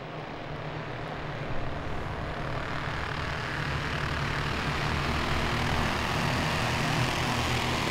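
Wing Champ Karts racing at Langley Speedway make a continuous, loud engine drone that holds steady and swells slightly as the pack gets up to speed, with no voices over it.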